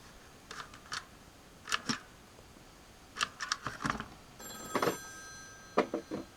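Several short bursts of ringing from a nearby Western Electric 2554B telephone, spaced apart with brief pauses, fairly quiet over a faint hiss.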